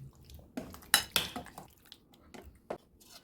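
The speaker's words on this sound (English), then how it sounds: "Toss them up to coat the paneer" Small paneer cubes are tossed in marinade in a bowl, giving soft scraping and a few light clinks of a utensil against the bowl, quiet and close.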